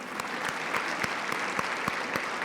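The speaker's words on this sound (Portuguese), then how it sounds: "eu queria juntamente com você aplaudir o nome do Senhor agora por tudo isso" Church congregation applauding together in praise during a worship service: dense, steady clapping from many hands throughout, fairly even in level with a few sharper claps standing out.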